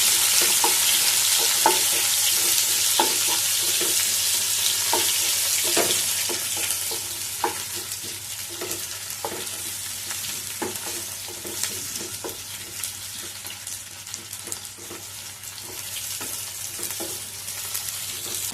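Long-cut onion slices fry in hot oil after cumin, a loud, steady close sizzle with regular clicking stirs of a spoon against the pan.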